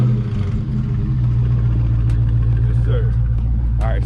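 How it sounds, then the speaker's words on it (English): A fully stock 2022 Dodge Charger or Challenger engine idling after a cold start, a deep steady rumble with some clatter, close and loud, with people talking briefly over it. "All right, fully stock cold start."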